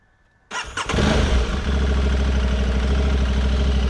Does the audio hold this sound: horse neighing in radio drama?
no